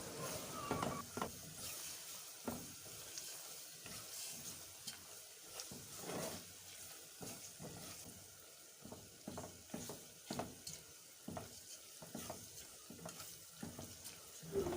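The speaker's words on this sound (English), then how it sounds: "Now I'm adding tomato paste and I'll gently mix this too." Tomato paste is stirred into a pan of frying ingredients for spaghetti jollof, a steady sizzle running throughout beneath repeated scraping, clicking strokes of the spoon against the pan, close and fairly loud with no talk.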